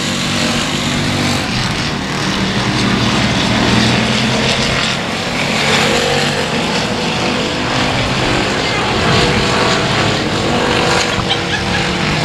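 Factory stock race cars roar past at close range on a dirt speedway, a loud, continuous engine drone swelling and fading as the pack goes by during the closing laps.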